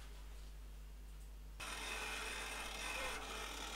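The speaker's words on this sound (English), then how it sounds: "it's no thanks to the loud noise of the motor in this thing" The motor of an old disco lighting effect unit switches on partway through, giving a steady, faint rasping whir over a low hum that continues to the end.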